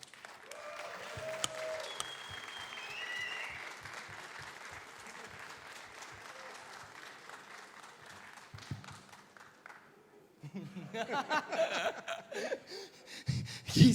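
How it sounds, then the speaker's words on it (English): Crowd applause for a home-country player taking the stage at a Bellum Gens Elite esports event in Stara Zagora. The applause runs steadily for about ten seconds, then louder, closer cheering and clapping bursts come in toward the end. "let's give a round of applause for Pecho Nitix Ivanov"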